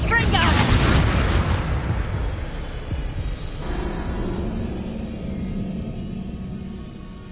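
A Confringo spell blast in Hogwarts Legacy lands as a loud, booming explosion that fades into a long rumbling tail.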